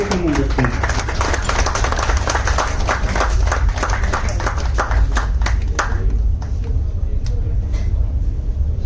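An audience at a premium business orientation programme at KC Residency claps loudly to welcome a woman onto the stage, with dense, sustained applause that thins out and fades near the end.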